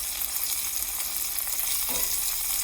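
Seasoned chicken browns in a frying pan with a loud, dense, continuous sizzle, close up and steady, and a brief stir or shift near the end, with no talk.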